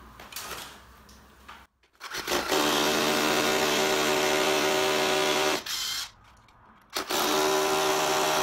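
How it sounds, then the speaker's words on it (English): A power driver runs screws into an electrical back box set in a chased-out wall, two long loud whirring bursts separated by short pauses. "Now we just got to put a couple of screws in it."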